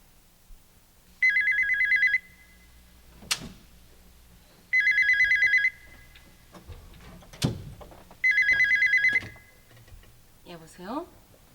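An old telephone bell rings in three loud, evenly spaced bursts in a quiet room in a 1988 Korean TV drama, with brief speech and small movement sounds in the gaps between rings.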